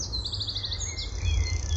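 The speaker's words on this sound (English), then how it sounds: "I'm just listening to the birds" Birds chirp outdoors in a park, bright rapid trills and short tweets close by over a low steady outdoor rumble, no talk.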